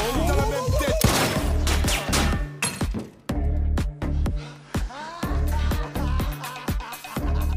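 Gunfire from a Barrett rifle in a TV-series scene, a run of loud sharp cracks and impacts mixed with dramatic music and shattering noises, with a voice in the background.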